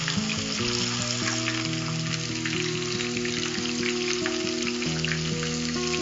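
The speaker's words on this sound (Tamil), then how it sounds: "சிக்கன் நல்லா ஃப்ரை ஆயிடுச்சு." Chicken for sweet and sour chicken sizzles and crackles in hot oil, a dense continuous frying hiss with tiny pops, close and loud, with steady tonal music playing underneath.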